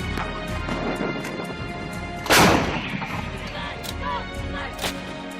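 A single heavy boom from an M777 155 mm howitzer firing in Ukraine cracks out sharply midway, its rumble decaying over a few seconds against a faint background.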